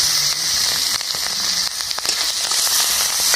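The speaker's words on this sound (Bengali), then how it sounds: "এই ইলিশ মাছের তেলের সঙ্গে আর একটু তেল দিচ্ছি, ফোড়ন করছি, শুকনো লঙ্কা ফোড়ন করছি" Dried red chillies sputter in hot hilsa fish oil with extra oil added, giving a dense, close, steady crackling sizzle with no voices.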